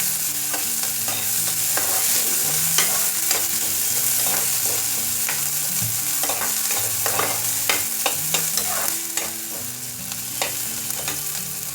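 Onions fry in a pan after cumin seeds have spluttered, making a continuous loud sizzle up close with frequent spoon scrapes and light knocks against the pan throughout.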